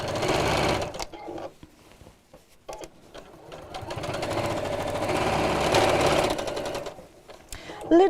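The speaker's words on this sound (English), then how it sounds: "use that guide to help you sew it in a straight line" Domestic sewing machine stitching the seam of a fabric drawstring box bag, running in bursts with brief pauses, then a long steady whirring run before stopping; a voice talks over parts of it.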